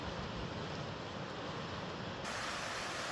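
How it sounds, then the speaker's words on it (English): Whitewater rapids on a creek near Avery, Idaho, heard from a distance through trees as a steady, broad rushing roar with no pauses and no voices. "I can hear some pretty good rapids."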